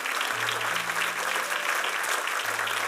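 A church congregation claps steadily during a worship service, a dense, even wash of applause filling the room with a low sustained instrumental tone underneath and no speech.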